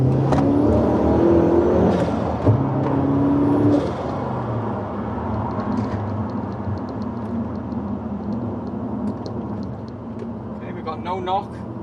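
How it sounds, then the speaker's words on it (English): A boosted car with a new downpipe accelerates hard in third gear, the engine note climbing steadily before easing off into a lower drone, with a turbo whine and faint chirps near the end. "A little third gear pull."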